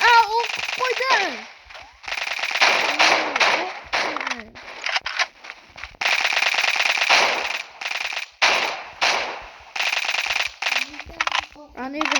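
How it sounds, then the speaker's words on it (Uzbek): Automatic rifle fire in the shooter game Special Forces Group 2 rattles in long loud sustained bursts separated by short gaps, with a voice heard briefly at the start and end. "O'tirib avtomat bilan o'q qo'yding."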